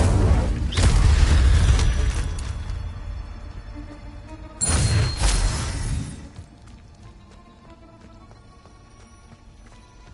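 Incendio fire spell cast in Hogwarts Legacy on PS5, two loud whooshing fiery bursts with booming impact, each fading over a second or two, followed by quieter game ambience.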